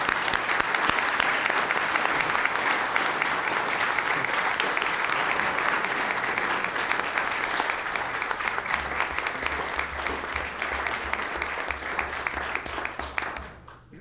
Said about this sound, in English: give a big round of applause for your 2 candidates